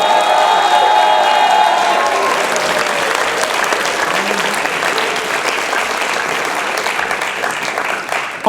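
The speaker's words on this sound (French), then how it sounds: "Vous pouvez également vous applaudir." A concert audience breaks into loud, dense applause that holds steady and tapers slightly near the end, with a short bit of speech at the beginning.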